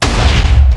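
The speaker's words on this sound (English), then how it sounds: "Wait. For the explosion." A C4 charge detonates in Minecraft during a bank heist, one loud, deep, booming blast filling the short moment with low rumble.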